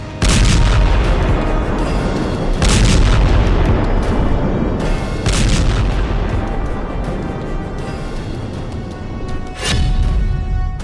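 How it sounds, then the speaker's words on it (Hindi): Heavy booming blasts of bombs weighing hundreds of kilograms falling on Gaza recur several times, each a broadband burst of rumbling noise, loud and close, with a sharp crack near the end and no voices. "गजा पर सैकड़ों किलो का बम जब गिरता है तो ऐसा धमाका होता है"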